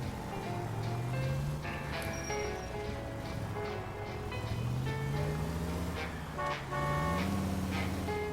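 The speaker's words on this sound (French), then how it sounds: "Arrêtez de klaxonner." Car horns honking repeatedly in the video game L.A. Noire, sustained tooting tones rising and falling over steady traffic and engine noise.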